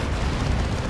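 A Leman Russ tank fires in a Dawn of War 2 battle, a dense, continuous low rumble of booming cannon blasts and explosions rolling steadily through the whole second.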